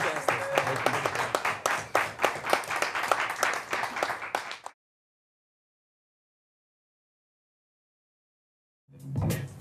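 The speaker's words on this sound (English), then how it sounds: "Ladies and gentlemen, big round of applause" A late-night talk show studio audience breaks into dense, steady applause for nearly five seconds, then cuts off abruptly into silence before a short burst of clapping returns at the end.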